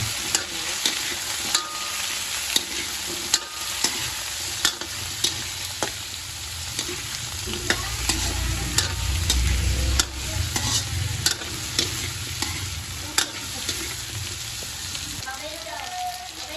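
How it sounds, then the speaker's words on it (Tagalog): Potatoes sizzle steadily in hot oil while a utensil scrapes and clinks against the pan now and then, close by. "Prito muna ng patatas."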